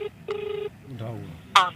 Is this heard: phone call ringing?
yes